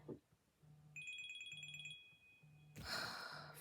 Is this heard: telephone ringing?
yes